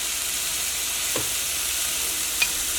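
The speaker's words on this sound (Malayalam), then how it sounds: "നമ്മുടെ ഉഴുന്നിനെ ഒന്ന് വറുത്തെടുക്കാം" Urad dal fries in a pan with a constant, fairly loud sizzle, broken by a couple of faint clicks from a spoon.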